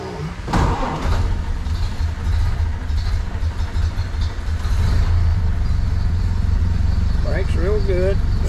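A 1931 Ford Model A sedan delivery engine starts and settles into a steady loud running rumble, with a voice speaking near the start.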